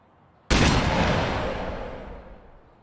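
A single sharp gunshot cracks out in the Open Season video game, loud and close, its blast trailing into a long decaying echo over a couple of seconds, with no talking.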